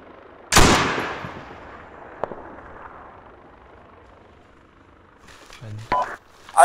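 Gunfire in a video game, one loud close blast followed by a long fading rumble, then a faint sharp pop and quieter distant shots later; people talk near the end.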